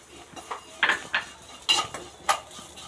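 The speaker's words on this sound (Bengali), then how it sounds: "সামান্য ঘি দিয়ে একটু নেড়ে নেব" A utensil scrapes and taps against a pan in a few quick, irregular strokes, stirring vermicelli in a little ghee.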